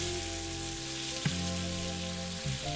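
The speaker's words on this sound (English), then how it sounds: "I'm just peeling my garlic, not cutting it, and I'm already giving it a head start in the oil for 1 to 2 minutes." Whole peeled garlic cloves fry in hot oil with a steady close sizzle and a couple of small pops, while faint tonal background music plays underneath.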